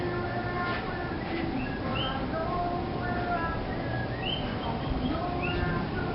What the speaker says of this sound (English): You hear the birds and everything else.